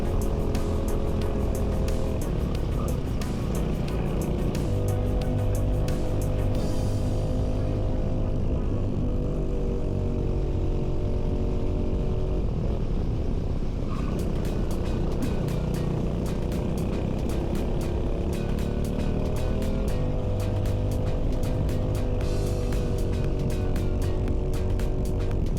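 Racing karts roar around a track in the Welsh hills, their engines whining continuously with rising and falling pitch as several machines pass and accelerate, loud and close throughout.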